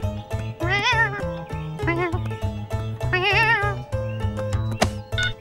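A cat meows repeatedly in an animated children's show, several drawn-out meows rising and falling over a steady bouncy musical backing, close and clear.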